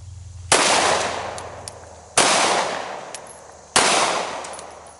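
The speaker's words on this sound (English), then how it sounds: "Three heart shots across." Three loud gunshots from a Glock 19 pistol at a shooting drill, evenly spaced about a second and a half apart, each a sharp close crack with a long ringing decay.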